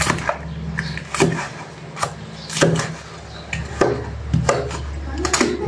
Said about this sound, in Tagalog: So tapos na natin i-slice.